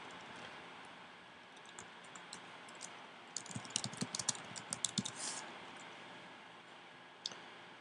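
Typing on a computer keyboard while filling in an HTML email template, with a steady patter of soft key clicks that thickens into a quick flurry midway, then a single click near the end.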